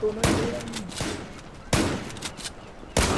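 Bursts of gunfire from the online shooter Zula in a team deathmatch come in three loud, sharp volleys about a second apart, with a player's voice faintly under them.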